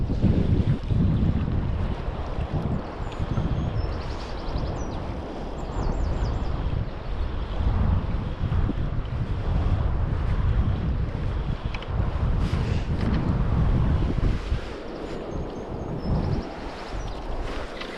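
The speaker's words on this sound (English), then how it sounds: "Wind's making casting difficult, although that was alright. Really gusty." Strong, gusty wind batters the microphone beside the River Spey while salmon fishing, a loud buffeting roar that swells and eases in gusts through the whole stretch, with water rushing beneath it.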